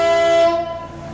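A horn sounds loudly on the Canal du Midi near Béziers, a sustained tonal blast with strong harmonics that holds for about half a second, then fades away.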